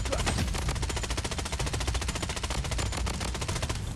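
Rapid automatic gunfire in the shooter game Blood Strike rattles in a dense, continuous burst, loud and close, with no talk over it.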